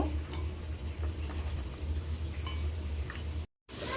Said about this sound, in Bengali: আমি এভাবে ভেজে নিচ্ছি।